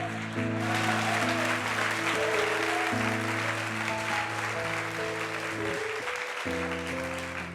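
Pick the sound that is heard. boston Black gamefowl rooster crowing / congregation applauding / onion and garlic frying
congregation applauding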